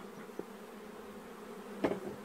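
Honeybees buzz in a steady drone at an open hive full of queen cells, close and moderately faint, with a couple of brief louder passes and no talk.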